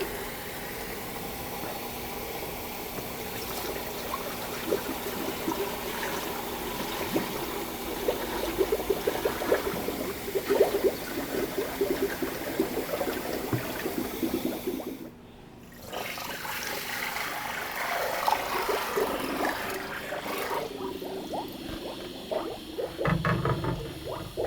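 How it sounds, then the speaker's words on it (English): Cold water running into both sides of an SLX400/SLX500 machine during cleaning and flushing, a soft continuous trickle and gurgle with faint clicks, briefly cut off midway then resuming. "So now we're going to take our cold water and fill both sides of the machine."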